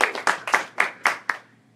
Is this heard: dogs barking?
no